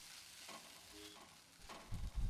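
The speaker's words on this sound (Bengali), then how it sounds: "কাজু ও পোস্ত দিয়ে এক মিনিটের মতো নাড়াচাড়া করে" A cashew and poppy seed paste is stirred into a mushroom curry in a pan with soft, faint scraping and low sizzling, ending in a couple of louder, duller knocks.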